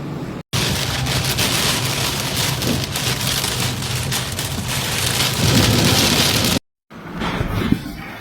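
Heavy rain pours steadily during a violent storm with hail and wind in Namur, Belgium, a loud, dense hiss with rumbling thunder, briefly cut off twice.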